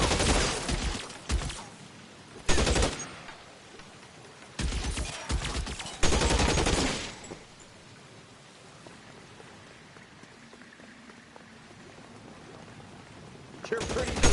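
Gunfire in the video game L.A. Noire, with bursts of loud rapid shots in the first seven seconds, then a quieter stretch of low ambience, and more firing picking up at the end.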